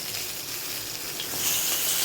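Bhetki fish finishing frying in a pan gives a steady, close, dense sizzle that holds throughout and swells slightly louder toward the end.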